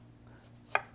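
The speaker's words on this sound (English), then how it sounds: "and when you're doing a dice of an onion" A kitchen knife chops through an onion on a cutting board while dicing it, one crisp close knock near the end of an otherwise quiet stretch with faint background hum.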